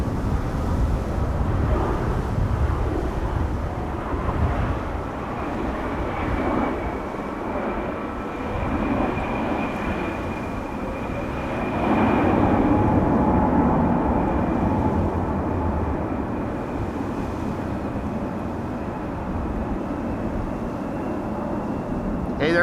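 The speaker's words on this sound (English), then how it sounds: "And another Embraer KLM is landing." A KLM Embraer 175 jet lands at Amsterdam Schiphol in windy weather, a steady loud engine roar with a faint high whine, blended with wind noise and rising slightly midway through.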